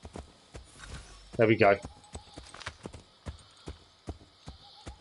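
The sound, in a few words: horse hooves clip-clopping in video game Assassin's Creed III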